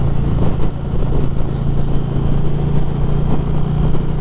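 A 2020 Indian Challenger motorcycle under way, its engine a loud, steady, close drone with rumbling low pulses and wind rush, holding constant through the short stretch with no talking.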